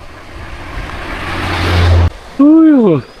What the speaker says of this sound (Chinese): 哎呀，好大风啊！